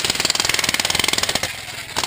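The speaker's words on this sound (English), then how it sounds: "these gentlemen are digging a hole the old-fashioned way with a jackhammer and a shovel." A Hitachi electric jackhammer digging a hole in the Philippines hammers out a fast, steady stream of loud pulses close by, then eases briefly before picking up again.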